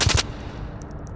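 Game autofire gunfire: two loud close shots open, then a tail of small metallic bullet casings tinkling onto a hard floor, bouncing and scattering into quiet.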